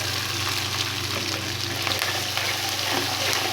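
Chopped small onions fry in hot oil in a pan, a dense, constant sizzling crackle held at an even level from start to finish, close and alone with no voices.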